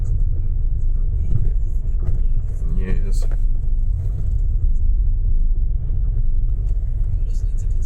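Inside a car looking at a Saab 900, a continuous low engine rumble and road drone fills the cabin, steady and fairly loud, with brief talk over it.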